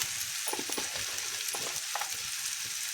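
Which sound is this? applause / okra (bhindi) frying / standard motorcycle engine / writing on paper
okra (bhindi) frying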